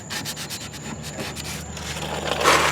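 Steady scrubbing and rubbing on a 1976 GMC Motorhome part to strip paint, a close, continuous abrasive rasp with a rhythmic back-and-forth texture that grows louder and harsher near the end.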